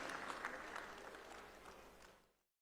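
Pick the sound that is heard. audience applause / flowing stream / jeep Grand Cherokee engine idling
audience applause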